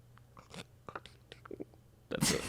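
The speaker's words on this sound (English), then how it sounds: "That's the sound of paper opening." Crinkly paper rustling and tearing as a card is opened, a few soft handling sounds followed by a louder burst of crackling paper at the end.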